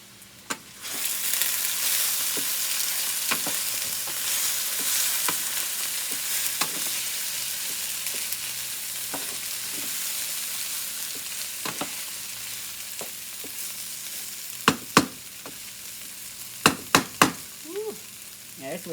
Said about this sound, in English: Stir our potatoes up.